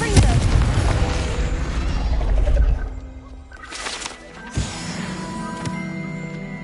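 Spell blast from a Confringo cast in Hogwarts Legacy: a loud booming burst opens the clip and rumbles for a few seconds, then a second, smaller explosive hit follows amid softer game effects and music.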